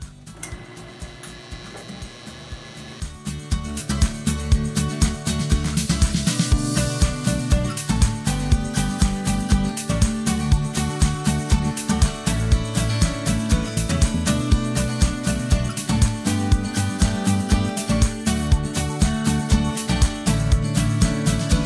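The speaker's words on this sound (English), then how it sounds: "Now we're ready to move the tool rest to the front of the form and begin the hollowing process." Hollowing a box elder wood hollow form on a lathe, a loud continuous whir of the spinning lathe with rapid rhythmic scraping and cutting from the tool, building after a quieter start and holding steady.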